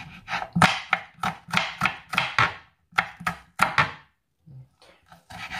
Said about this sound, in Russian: Лук я режу немного, потому что я не люблю, когда много лука в селедке.